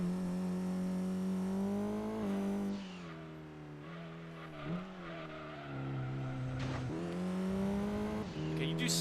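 Lancia Delta 4WD engine in Gran Turismo 2 holds a steady revving drone that dips and climbs through shifts over nine seconds, with faint tire noise and a voice talking over it.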